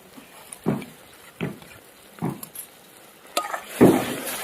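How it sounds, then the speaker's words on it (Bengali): Spice masala with beaten yogurt, raisin paste and turmeric frying for a fish curry, a steady soft sizzle broken by regular stirring scrapes about every second, close by with no talk. "সবকিছু দিয়ে এবার মশলাটা আর একটু কষিয়ে নেব।"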